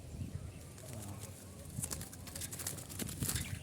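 Low, soft dove coos repeat through the clip, with faint rustling and wing flutters nearby in an outdoor setting.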